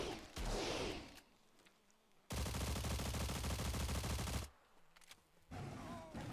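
Rapid automatic gunfire bursts loud and close for about two seconds in a Slav Folklore arena event match, between quieter stretches of game ambience with a few scattered single shots.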